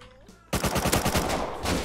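AK rifle firing in the online survival game Rust, a sudden loud burst of rapid automatic shots lasting over a second after a quieter lead-in, with no talk.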